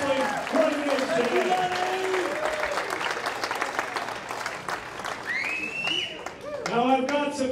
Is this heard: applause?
yes